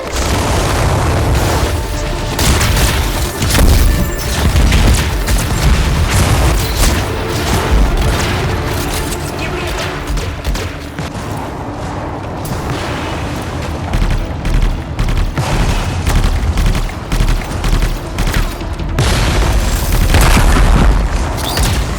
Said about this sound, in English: The crystals are exploding!